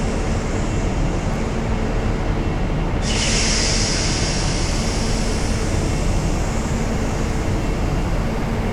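Loud, continuous rumble of a Virgin passenger train in Train Simulator Classic running steadily, with a high hissing whine rising partway through; no voices.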